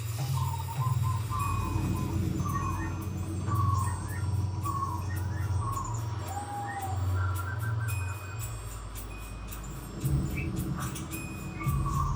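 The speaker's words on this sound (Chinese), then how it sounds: "能听到来自上方的鸟叫" Birds chirp and call from above, layered over a dense, continuous bed of music with low drones and instrument sounds, played through a Sony HT-A8000 soundbar with RS8 rear speakers and SW7 subwoofer.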